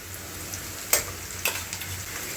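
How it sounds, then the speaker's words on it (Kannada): Ginger garlic paste frying with onions in a pan, a quiet continuous sizzle broken by a few sharp clicks and spatters, heard alone. "ಇವಾಗ ಇದು ಹಸಿ ಸ್ಮೆಲ್ ಹೋಗೋವರೆಗೂ ಫ್ರೈ ಮಾಡ್ಕೊತೀನಿ"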